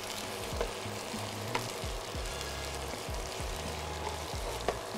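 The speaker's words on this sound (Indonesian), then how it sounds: "Kita akan tumis bawang ni sampai dia keperang-perangan sikit." Onions and chillies sautéing in hot oil for a squid stir-fry, a steady close sizzle with a few sharper crackles and pops, no voices over it.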